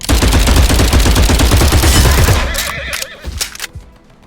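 Cavalry horses neighing in the video game Glory Front line, a loud whinny over dense rapid gunfire that thins out into scattered shots and short bursts.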